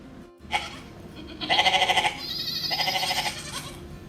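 A goat bleats several times, wavering cries close by, one drawn out longer than the others, against quiet background.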